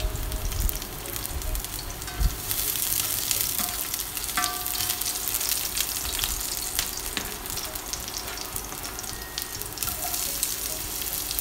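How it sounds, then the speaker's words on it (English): Garlic frying in a pan, a steady soft sizzle with occasional stirring clicks and scrapes, heard close and alone at moderate volume. "In a pan, put the garlic. Fry the garlic until golden brown."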